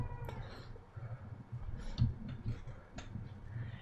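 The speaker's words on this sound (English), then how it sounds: "Yeah, cats are awesome, but sometimes you could probably hear it like meow and whine" A house cat gives soft, intermittent meows and whines close by, over faint ticking and clicking noises.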